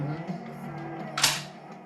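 A gun's bolt release letting the bolt snap forward, one sharp, close metallic clack over a quiet background hum.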